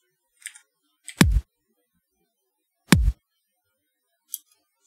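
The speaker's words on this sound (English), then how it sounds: "So if I want to do like just a simple kick 1 and 3" Two deep, punchy kick drum hits from a sample in Reaper land on beats 1 and 3, loud and close, among a few quiet mouse and keyboard clicks.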